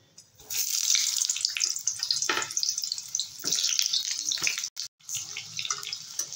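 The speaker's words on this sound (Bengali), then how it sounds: "এবার আমি পটলগুলো ভেজে নেব।" Sliced pointed gourd (potol) hits hot oil in a pan and bursts into a loud, close, hissing sizzle. The sizzle carries on steadily with small crackles and one brief dropout, with no talking.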